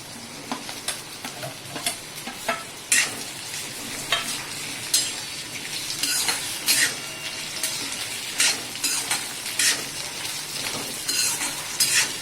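Potatoes with a little coriander fry in a pan for sabudana khichdi, a constant sizzle broken by frequent scraping and clinking stirs of a spatula, close and fairly loud.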